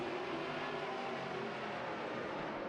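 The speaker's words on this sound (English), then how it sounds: "Cody Erickson rifles out to the early lead." Race cars accelerating on a dirt oval at Jefferson pre-feature racing, a dense continuous engine roar heard from a distance, steady and broadband with no speech.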